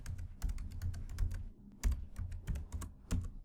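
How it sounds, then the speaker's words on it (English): A computer keyboard typed on at close range, with a quick irregular run of sharp key clicks and thumps over a few seconds, no voices. "So I'm typing out browser sync over here."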